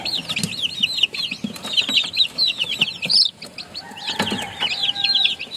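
A hen clucks low and close while many chicks peep rapidly and high-pitched around her.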